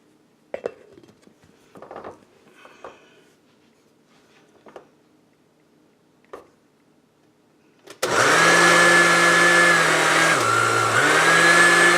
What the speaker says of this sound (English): you're going to grind this to a fine powder.